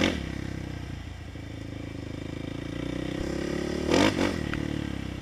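An electric motor whines steadily up close while building heat, rising in pitch as it accelerates hard, with a short louder clattering burst near the end.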